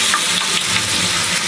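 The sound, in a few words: frying tempeh in crispy batter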